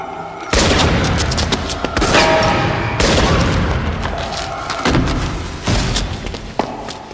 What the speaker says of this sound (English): Tyree fires the first shot and misses. The victim fires back, misses by a mile, hits a garbage can.